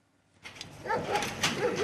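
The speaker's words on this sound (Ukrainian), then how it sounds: "Переляканий охоронець стримує двох вівчарок." Two shepherd dogs held back by a guard at a car impound lot, giving short whimpering yelps and barks that are fairly faint and brief.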